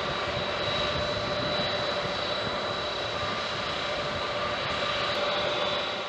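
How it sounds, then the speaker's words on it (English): A Lockheed C-5 Galaxy, a huge four-engine military transport, comes in to land with a loud, continuous engine roar that holds steady throughout, with no one speaking. "Sometimes when it lands, the pilots find it tough to stop a C-5 Galaxy due to its size and weight"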